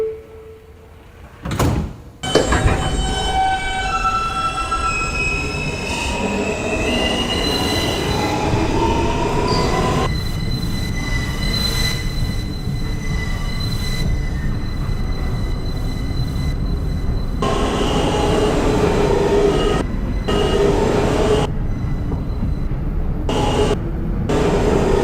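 A New York City subway Manhattan-bound F local train running, with a loud continuous rumble, high metallic wheel squeals and screeches, and door-related clunks near the start, heard from inside the car.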